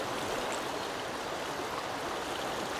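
A river flows steadily in the fishing game Call of the Wild: The Angler, a constant broadband rush of running water with no pauses, moderately loud and even throughout, with no voices over it.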